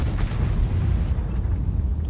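Tank cannon in World of Tanks firing gold ammunition, heard as one deep, heavy boom that rumbles and fades over a couple of seconds.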